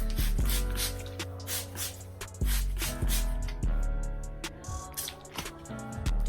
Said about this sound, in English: spray my hair with water